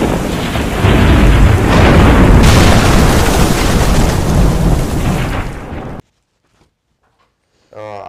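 A loud, rolling thunder effect with rumbling cracks sounds alone for about six seconds and then cuts off abruptly into silence, with a voice entering briefly at the very end.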